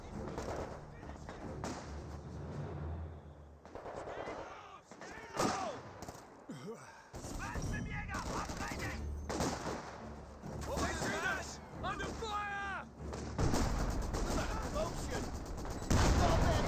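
Artillery and mortar barrages from Company of Heroes 2 (Spearhead mod), with a leFH 18 howitzer firing counter-barrage alongside machine-gun bursts: repeated booming blasts and crackling fire run throughout while a commentator talks over the battle.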